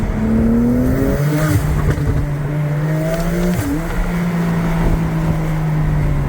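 A Porsche 911 Turbo engine revs loudly and close by, its turbocharged note climbing and falling through several throttle blips over a steady running drone, with no voices.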